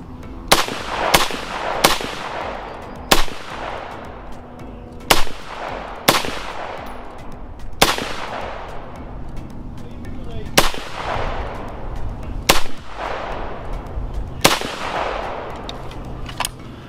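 A rifle fitted with a Vortex Strike Fire II red dot fires about a dozen loud, sharp gunshots at an irregular pace, each cracking close by and trailing off with a ringing outdoor echo.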